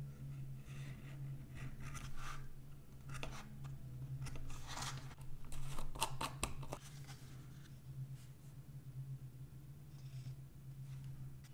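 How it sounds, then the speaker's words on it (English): Leather edges of a DIY MagSafe wallet being trimmed, producing faint, close cutting and scraping strokes in short bursts over a low steady hum. "Let's trim the last edges."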